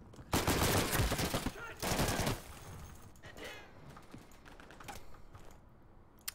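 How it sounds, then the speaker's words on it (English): Grease gun firing in the video game Day of Infamy, two close rapid bursts of slow automatic fire, followed by quieter scattered shots and clicks. "Grease gun fire's kind of slow."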